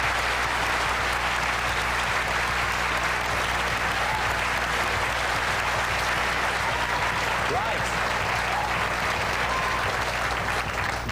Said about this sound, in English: But our studio audience here at the BBC in London will say, well done, Bo Lindström.